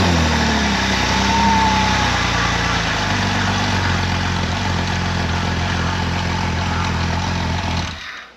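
A Jeep 4.0 engine idles cold just after being cranked, a loud, even mechanical drone that holds steady before dropping away at the very end.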